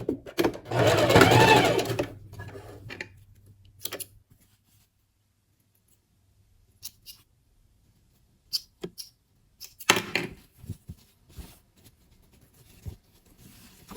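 Sewing machine stitching bias binding onto the V-neckline of a women's dress shirt, a fast close whirring burst of about two seconds, followed by quiet handling clicks and a second short burst later.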